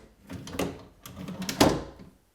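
Wooden desk drawers being slid into their runners during assembly, producing a couple of muffled thumps and scraping slides, close by with no talking.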